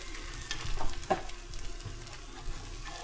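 Egg and cheese sandwich frying in a non-stick pan, giving a steady soft sizzle with faint crackles throughout.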